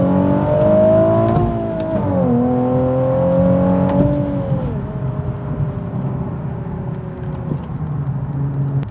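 Subaru WRX-era manual car with automatic rev matching, the engine blipping and revving through a chain of downshifts from sixth to second, a steady loud drone stepping up in pitch with each gear change, heard from inside the cabin.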